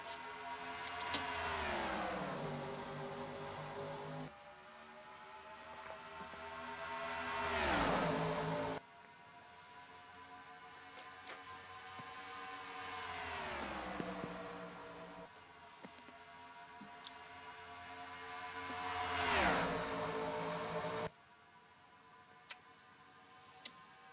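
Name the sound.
race cars at Charlotte Motor Speedway in NASCAR Racing 2003 video game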